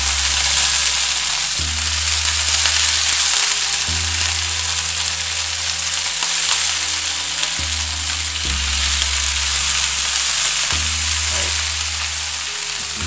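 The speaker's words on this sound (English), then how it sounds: "So now, my pan with the olive oil." Rapini sizzling in hot olive oil in a pan, a steady, close frying hiss that holds loud and continuous throughout with no talking.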